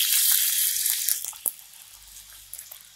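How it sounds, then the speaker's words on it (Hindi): Water is poured into a hot tempering pan for khaman dhokla with a sizzling, gushing hiss that fades into scattered crackles and drips, close and alone. "और इसमें हम ये पानी ऐड करेंगे।"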